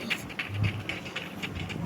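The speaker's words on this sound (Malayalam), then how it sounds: "ട്രെയിൻ ഓടുന്നുണ്ട് ഗൈസ്" A train rolls along in the video game Free Fire, giving a rhythmic clatter of repeated wheel clicks over a soft hiss. It is moderately loud and steady throughout.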